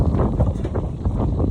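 Strong gusting wind like a small storm, a dense rumbling buffet of wind noise against the microphone that roars briefly and unevenly, with no talk.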